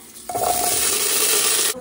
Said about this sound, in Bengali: প্রেসার কুকারেই দেবো হচ্ছে এই টমেটোগুলো ভাজার জন্য